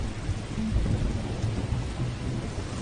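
Heavy rain pours outside in a dense, continuous hiss with a low rumbling undertone, steady and unbroken, with no one speaking.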